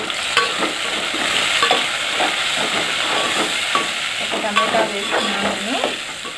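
Onions and tomatoes fry in a pan for a chicken curry with drumstick, giving a steady close sizzle and hiss with a few scraping stirs and clinks throughout.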